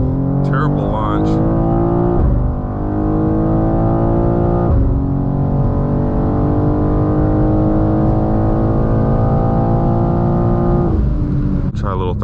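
A G87 BMW M2 with a MAD single midpipe exhaust accelerates from a launch-control start, its engine droning loud and close through rising gear pulls with brief pauses at each shift, while someone talks over it.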